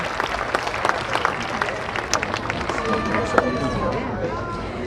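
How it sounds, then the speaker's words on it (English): An audience at a seal show at Taronga Zoo in Sydney claps loudly and unevenly, with scattered sharp claps and some whoops, while a presenter keeps talking over the applause throughout. "Give yourselves a big round of applause."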